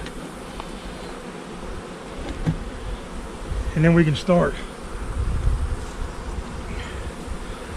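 Honeybees buzz steadily around the hive in fall with a low droning hum, while a person speaks briefly partway through as a box of bees is set on top of the hive.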